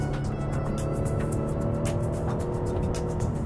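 An Infiniti G37 with a 328-horsepower engine and a seven-speed manual-shift transmission, heard from inside while accelerating: a steady, loud engine drone with road and wind noise and brief shifts in pitch, no talking.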